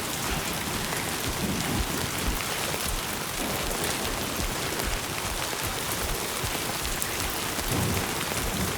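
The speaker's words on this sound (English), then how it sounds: "Oh, the rain is so loud." Heavy rain in a Death Stranding 2 game scene, a loud, dense and constant downpour hissing across the whole stretch with no pauses and no voices.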